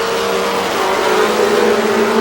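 A pack of mini stock race cars roars off turn four at the green flag on an oval speedway, the engines blending into a loud, sustained, buzzing drone as they accelerate together.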